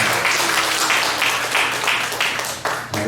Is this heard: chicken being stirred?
no